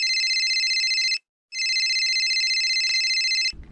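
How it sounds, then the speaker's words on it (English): A telephone rings with a bright, electronic double-tone trill, two long bursts separated by a short gap, loud and close, ending as a call is picked up. "phone started ringing"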